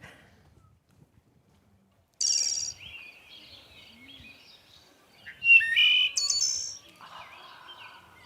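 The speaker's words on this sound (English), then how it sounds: "So that's what a wood thrush can sound like" A wood thrush sings a clear, flutelike song in a few separate phrases with quiet gaps between them, heard alone against a near-silent background.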